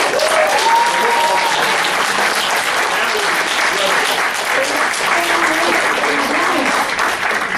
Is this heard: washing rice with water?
no